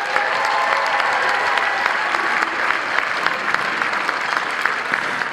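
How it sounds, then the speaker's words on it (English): At a marching band concert, the audience applauds. The clapping is loud, dense and continuous, with a few faint voices mixed in, and it holds steady throughout. "Can we get a really nice round of applause for our Maine West administration"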